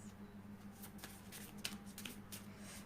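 Tarot cards are shuffled and drawn close by, with faint, soft rustling and light flicks and taps of card stock over a low, steady background hum.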